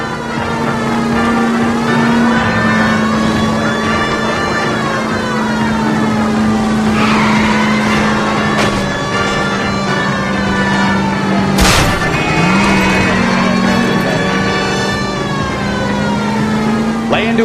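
Car chase in L.A. Noire after a stolen green Kaiser Frazer, with a loud continuous engine drone, a wailing police siren rising and falling overhead, and a sharp crash or skid near the middle.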